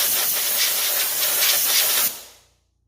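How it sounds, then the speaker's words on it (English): A compressed air wand blasts over a Cub Cadet LTX 1042 KW lawn tractor engine, a loud steady close hiss for about two seconds that then cuts off and fades. "Just take your air wand"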